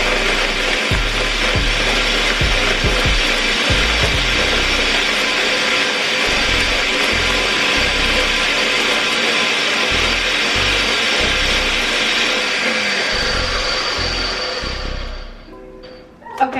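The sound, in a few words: blender blending rice and cinnamon for horchata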